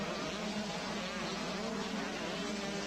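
Steady high-pitched buzzing of 125cc motorcycle engines racing together, a continuous insect-like drone with no break, heard at moderate distance.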